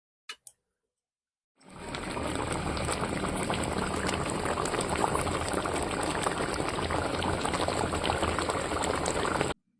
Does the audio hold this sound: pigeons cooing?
no